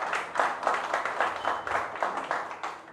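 Audience applause at an outdoor ribbon cutting for new supportive housing in West Palm Beach, a moderate crowd clapping in uneven pulsing waves for a few seconds with no voices over it.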